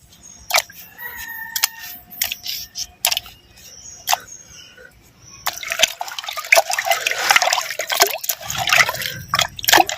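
Salted dried mutton being rinsed in water by hand: sparse drips and splashes at first, then a denser run of sloshing and trickling close by, with no talking.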